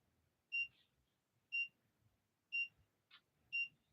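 A faint, high electronic beep sounds four times at a steady one-second rhythm, with a small chirp between the last two beeps, and nothing else around it.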